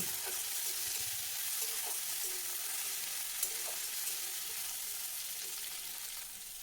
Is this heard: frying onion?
yes